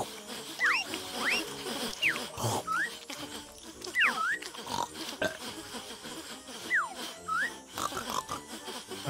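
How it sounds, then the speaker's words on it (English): Pig grunts from the video game Yooka-Laylee sound in short, repeated bursts over busy, continuous game music, with no talking. "So there's four pigs to find."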